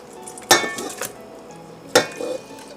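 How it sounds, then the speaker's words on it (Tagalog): Raw pork for Filipino sweet and sour pork goes into a metal cooking pot with two sharp clanks, each followed by softer knocks and clinks of utensils against the pot, close by with no talking. "now I will put the pork in the pot"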